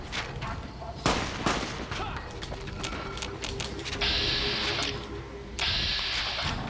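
Gunfire in the video game Fallout New Vegas: a few sharp shots ring out over clattering mechanical noise and a steady hum, with bright electronic tones cutting in near the end.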